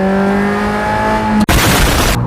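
Engine noise from a Ferrari Mondial on the road, a steady harmonic drone with a short dropout, then a broad louder rush of road and engine sound, close and continuous.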